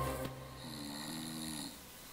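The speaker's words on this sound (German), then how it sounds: "Wir machen den Test und lassen einen Schnarcher vom Band laufen." Recorded snoring plays back from tape during a sleep-gadget test, a faint, drawn-out snore with a buzzing tonal rasp heard once at low level against a quiet background.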